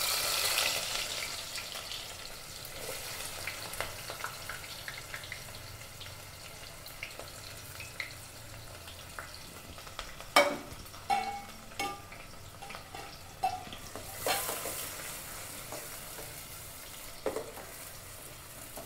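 Onions frying in hot oil for a Sunday chicken curry, giving a steady sizzle and crackle, with a few louder stirring clatters and brief splashes.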